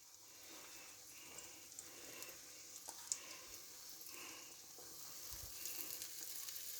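An egg fries on very slow heat in a pan with cheese, onions and tomatoes, giving a steady, soft, continuous sizzle with faint crackles throughout and no voices.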